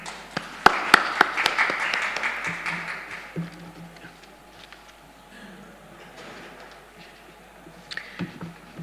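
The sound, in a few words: audience applause for speaker at conference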